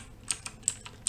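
Fast keystrokes tapped out on a computer keyboard while entering a ping command in a network configuration exercise: five or six light, quiet clicks in an uneven rhythm, nearby and without any speech.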